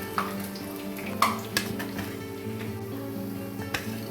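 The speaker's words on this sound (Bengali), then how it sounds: "বাদ বাকিগুলো আমি এইভাবে ভেজে নেব" Paneer-stuffed Malabar spinach leaf pakoras fry in hot oil with a steady close sizzle, broken by a few sharp clinks of a metal utensil against the pan and some stirring.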